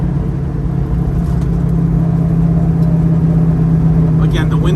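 A 1970 Dodge Challenger runs on an expressway with the windows down, its engine a steady, loud low rumble from inside the car that stays fairly even with no distinct shifts, and someone speaks over it.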